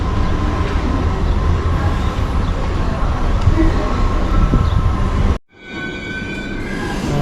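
A Marmaray commuter train or metro runs on rails with a steady loud rumble and rolling wheel noise, which drops away abruptly near the end, leaving a quieter hum with faint squeals.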